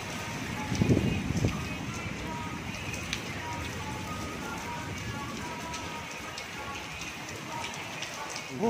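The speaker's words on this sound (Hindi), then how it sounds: "हमारे यहाँ बारिश हो रही है बहुत ही ज़बरदस्त" Heavy rain falls steadily in a village, a dense, even hiss of drops that holds for the whole stretch, with a brief louder burst of splashing near the start.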